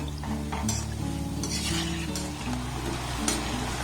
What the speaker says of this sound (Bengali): গ্যাসের ফ্লেমটাকে লো টু মিডিয়াম রেখে এগুলোকে আমি একটু লাল লাল করে ভেজে নেব